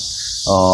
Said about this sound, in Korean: 요즘 도시에 가보면 매미 소리가 안 들리는데 강주에 오니까 매미 소리 많이 들리는 것 같습니다